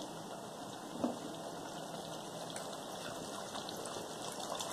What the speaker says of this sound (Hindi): फिर हम इसके अंदर 1 ग्लास पानी डालेंगे